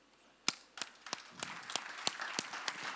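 Audience clapping hands during a talk at a MegaMind presentation in Hong Kong, a few sparse distinct claps at first that build into a scattered round of applause, somewhat distant and quiet.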